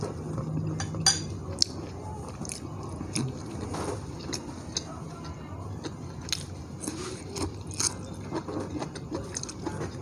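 Someone eats nam prik chili paste with utensils, giving scattered soft clinks and scrapes of cutlery on dishes along with chewing and biting sounds, close and moderately quiet, with no talk.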